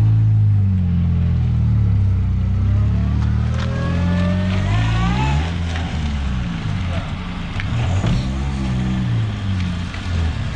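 A car engine, likely one of the wrecks lined up for a crushing day with Peugeot 405 and 306, Citroën Xantia and Ford Focus, fires up and keeps running loud and close, its low rumble shifting in pitch, with voices talking over it.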